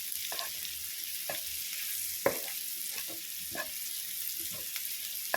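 Chopped vegetables such as capsicum and corn sizzle in a pan for white sauce pasta. A soft, steady frying hiss runs throughout, broken by several sharp clinks and scrapes of stirring.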